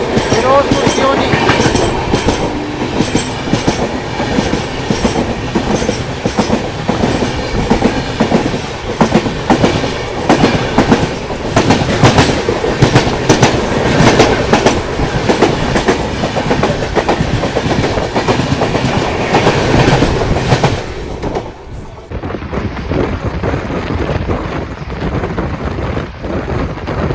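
The Swarna Jayanti SF Express, an Indian Railways train, runs along the tracks with a steady loud rumble and rhythmic clickety-clack of wheels. Near the end the sound drops suddenly and becomes quieter.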